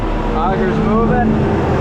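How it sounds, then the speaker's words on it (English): Grain auger on a silo runs with a steady, loud mechanical drone and a whining hum, close by and continuous through the short stretch. "Auger's moving."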